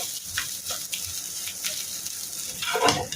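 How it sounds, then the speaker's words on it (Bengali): Black pepper and butter stir-fry over high heat, giving a steady, close sizzle. Occasional scraping stirs rise louder near the end, with no talk. "ব্যাস এখন এটাকে হাই হিটে ভালো করে এভাবে করে নাড়াচাড়া নাড়াচাড়া করবো"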